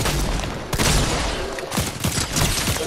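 Gunfire in Fortnite, a dense, loud volley of overlapping shots and sharp cracks rattling almost continuously, close and chaotic.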